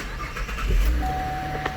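Engine of a 2012 Chevrolet Camaro LT cranking and catching, a low rumble with a brief start burst, then a settled idle, heard close with no talk.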